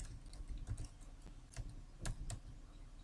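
Scattered key presses on a computer keyboard, a few soft clicks spaced irregularly with a couple of sharper taps, close by in a quiet room.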